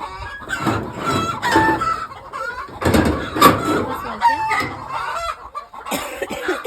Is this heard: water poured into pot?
no